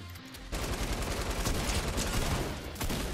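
Gunfire in Fortnite: a dense, continuous stream of rapid shots starts abruptly after a brief quiet moment and stays loud and busy to the end.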